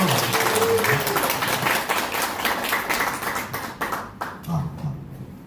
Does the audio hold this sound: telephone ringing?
no